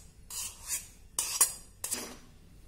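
Cooled barnyard millet rice being mixed into a potato mixture, heard as a few faint, brief scraping clinks of a utensil against a dish, separated by quiet pauses.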